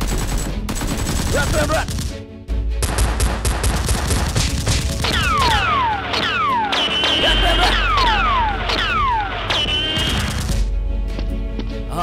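Nerf guns firing in a mock battle, with rapid bursts and repeated sharp shots layered over continuous loud clatter and whooshing, while a voice speaks briefly.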